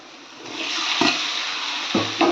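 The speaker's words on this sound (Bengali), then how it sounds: "আমার কষানো হয়ে গেছে এবার মাংসটা দিয়ে দেবো" Pieces of meat sizzle loudly as they are added to spiced onions frying in hot oil, with a continuous hiss broken by a few sharp bursts as more meat hits the pan.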